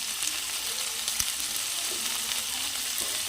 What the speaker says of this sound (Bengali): দিয়ে দু থেকে তিন মিনিট ভালো করে একটু ডাটাটাকে কষিয়ে নিতে হবে